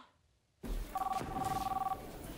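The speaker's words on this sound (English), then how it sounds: "Dude, you gotta answer the phone." An old-style telephone rings twice in The Big Lebowski, a paired electronic trill starting about a second in after a sudden jump from silence, heard over room noise.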